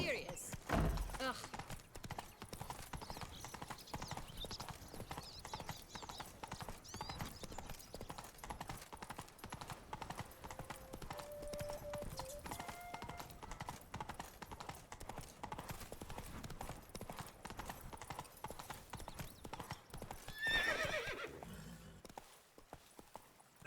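Steady clip-clop of Roach, Geralt's horse in The Witcher 3, trotting at an even pace, moderately loud and continuous, with game ambience underneath and a short burst of other noise near the end.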